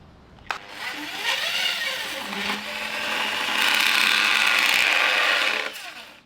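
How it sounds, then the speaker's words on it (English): Small handheld cutting wheel tool cutting sheet metal on a budget JDM drift car build, a rising high-pitched grinding whine that starts abruptly, dips briefly, then holds loud and steady before stopping. "I bought this little cutting wheel thing online"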